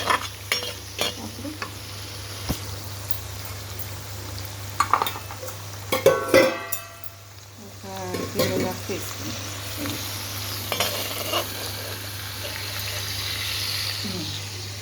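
Dried fish and prawns for a Telugu-style curry fry lightly in hot oil, with a steady sizzle and intermittent stirring scrapes of a spatula in the pan, close and moderately loud, with some faint clatter in the background.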